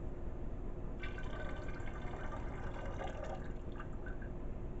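Honey water being poured into a jug while brewing mead, a soft continuous trickle and splash with slight dripping, quiet and close, no voices.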